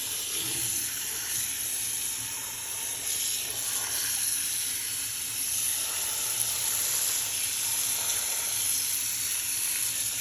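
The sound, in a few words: filling a container with filtered tap water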